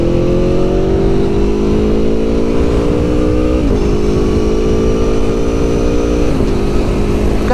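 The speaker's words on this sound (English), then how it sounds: "this thing sounds really loud to me with that Akrapovic exhaust" Aprilia Tuono motorcycle with an Akrapovic exhaust pulling hard in second gear through a neighborhood, a loud, close, continuous engine roar whose pitch climbs steadily, with two brief dips at gear changes, no talking.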